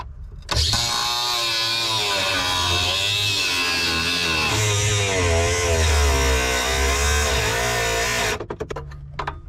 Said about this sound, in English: So I think I'm just going to take a sawzall, or yeah, maybe a sawzall